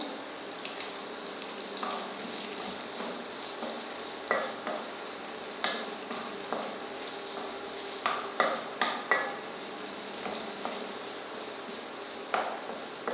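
Tomato sautéed in a pan for masala vegetable upma, a continuous moderate sizzle with frequent sharp spoon taps and scrapes against the pan, close by and without talk.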